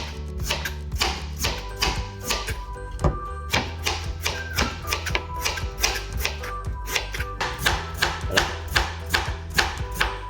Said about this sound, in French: Moi je vais continuer au couteau, je préfère. Allez, on est parti pour le découpage de pommes de terre.